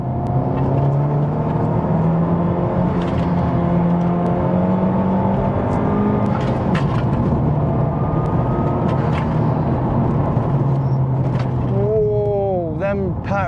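A Honda Civic Type R FK8 drops a gear and accelerates, its engine note climbing steadily and loudly from inside the cabin, with a rising whine near the end.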